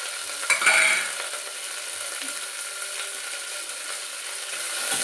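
Onions, garlic and mint are stirred in a hot pan, giving a steady sizzle with a few scraping clatters of the spoon near the start, close and continuous with no talking.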